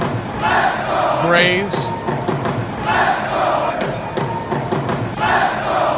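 Crowd noise fills a baseball stadium on opening day as Cleveland plays the Seattle Mariners. A steady, dense murmur runs underneath, a commentator talks over it throughout, and a short whistle-like call stands out briefly.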